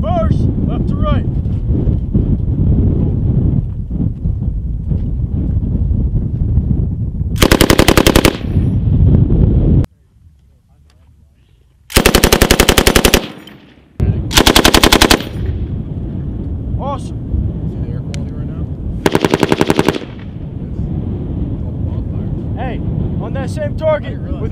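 Military machine guns fire during live-fire training, with several loud rapid bursts standing out over constant wind noise and outdoor rumble while voices talk through the gaps.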